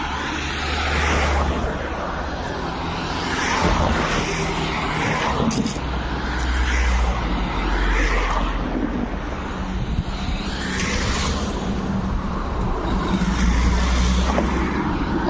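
Cars pass along a road on an overcast day, including a BMW, with a steady rushing traffic roar that swells and fades as each vehicle goes by, close and continuous.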